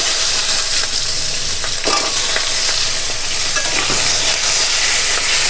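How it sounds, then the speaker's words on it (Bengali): Onions and bay leaves fry in hot oil for an old-style jackfruit curry, a loud, dense, unbroken sizzle close up with occasional stirring scrapes. "পেঁয়াজগুলো আমি তেলের মধ্যে একটু ভাজা করে নেব"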